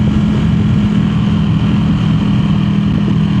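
A Ducati Panigale V2 sportbike fitted with an aftermarket exhaust idles with a loud, steady, deep rumble that holds close and constant the whole time.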